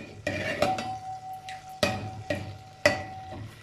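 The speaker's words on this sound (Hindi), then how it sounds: "ये देखिए घी की आवाज़ आने लग गई है।" Cardamom seeds frying in hot ghee, a steady sizzle broken by repeated sharp clinks of a spoon stirring against the pan, close and moderately loud with no talking.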